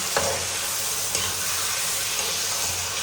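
Mutton korma stir-fries in a pan with a loud, steady sizzle and hiss, punctuated by a few sharp stirring clicks, close up with no talk.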